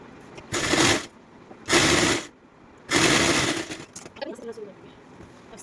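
A domestic sewing machine stitching fabric for a top's sleeves, running in three close bursts of rapid mechanical clatter about a second each, with quiet gaps between and faint handling noise after.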